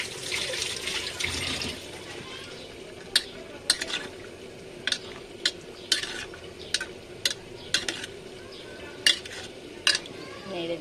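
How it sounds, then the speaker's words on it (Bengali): Potatoes are stirred into lentils in a cooking pot, with a wet, sloshing stir throughout and a series of distinct spoon clinks against the pot at irregular intervals. "আলুটা দেওয়া শেষ, এবার একটু নেড়ে দিব।"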